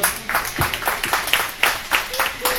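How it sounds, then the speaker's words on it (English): Audience at a live slam poetry show clapping for the performing team, a scattered, moderately loud patter of hands with uneven bursts throughout. "Can we clap it up for my teammates one more time?"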